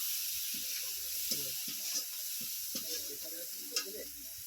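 Spices and a splash of water in a pan give a soft, even hiss, with quiet scrapes and taps of stirring underneath, faint and close.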